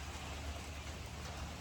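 Hail falling on a Michigan autumn day, a dense, steady patter of small impacts with low rumbling underneath, continuous and fairly close with no voices.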